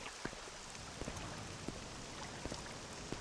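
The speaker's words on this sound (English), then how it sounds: "Man, it feels like it's just constantly raining." Rain falls in the video game Morrowind as a soft, constant hiss, with scattered faint droplet ticks over a quiet background.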